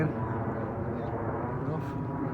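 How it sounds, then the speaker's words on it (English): An airplane flies overhead above a cottage garden, producing a low, steady, droning rumble that holds at moderate loudness for the whole stretch. "There's a plane."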